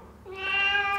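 A single cat meow, close and clear, rising then held steady for about a second in an otherwise quiet indoor room.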